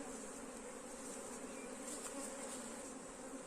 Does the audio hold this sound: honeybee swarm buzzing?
yes